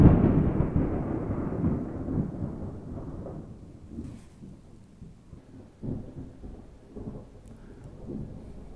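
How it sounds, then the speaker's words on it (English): Loud, close thunder opens with a heavy rumbling crack, then rolls and fades over several seconds while steady rain patters throughout, with a few later rumbles and no speech. "and there was giant thunder."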